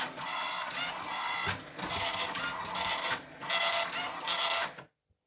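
Commodore MPS 1230 dot matrix printer printing in loud, rhythmic bursts: six buzzing passes of the print head with brief gaps between, then silence at the end.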